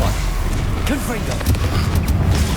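Confringo blasting spell in Hogwarts Legacy erupts as a loud, close burst of rumbling booms and sharp cracks, with brief whooshing swirls over a continuous low roar, no talking.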